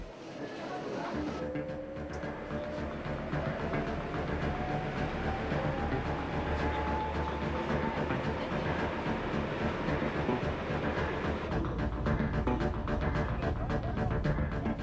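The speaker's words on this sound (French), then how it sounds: "un métro sans conducteur" A driverless automated metro train built by Matra Transport runs steadily, wheels rumbling and clattering, with a rising electric motor whine and no voices.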